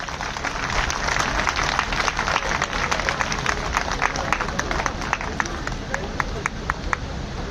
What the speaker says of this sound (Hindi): एक बार जोरदार तालियां साथियों इनके लिए।